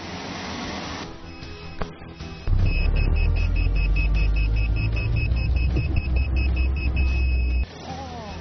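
A car starts and drives toward an obstacle during an automatic emergency braking test, its engine and road rumble loud and steady for several seconds, with a thin high whine running on top before the noise drops away.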